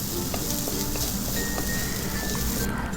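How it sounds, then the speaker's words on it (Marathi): Egg bhurji fries in a pan with a continuous loud sizzle and the scrape of stirring, close up and without talk. "फ्राय करून घ्यायचेत एक ते दीड मिनटं त्याला लागतील भुर्जी तयार व्हायला"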